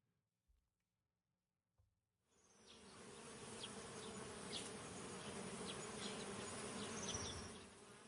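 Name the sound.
bees buzzing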